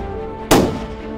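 A single sharp sniper rifle shot cracks out on a 300 m firing range, a loud sudden blast with a lingering rumbling tail over steady background hum.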